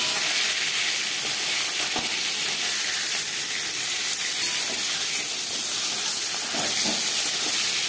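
A rohu fish head fries in a pan with a continuous loud hiss and sizzle, steady for the whole stretch with faint crackles and no voices.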